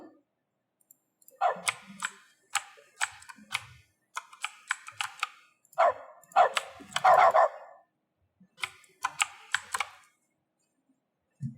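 A dog in The Stanley Parable Ultra Deluxe barks in a series of short, sharp bursts, some single and some in quick clusters, separated by silence, close and clear.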